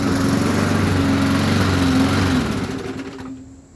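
A 2002 Rally push lawn mower's small engine runs loud and close, a steady buzzing drone that holds for several seconds, then drops away as the motor cuts off, leaving quiet.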